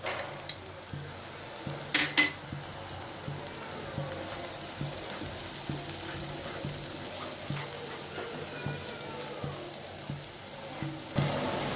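Ginger-garlic paste is added to a pan on medium heat and stirred for a spiced eggplant-in-yogurt dish, with a faint sizzle under a few quiet scrapes and clinks of a spoon on the pan.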